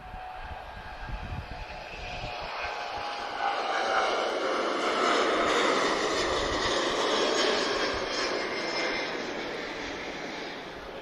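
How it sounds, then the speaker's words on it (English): A Boeing 777 takes off at Lisbon Airport, a broad, loud jet roar that swells and holds steadily for several seconds, heard from a distance with no talking. "we're going to get a 777 departure."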